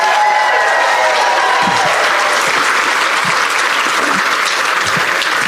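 An audience at a judicial candidate forum breaks into loud, sustained applause, dense clapping filling the room with some faint crowd noise beneath it and no one speaking.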